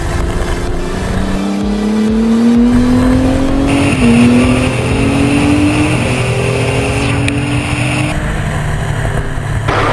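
A Formula 2 race car on cold slicks and a damp track, engine screaming loud and close as it revs up through the gears with rising pitch sweeps and brief shift breaks.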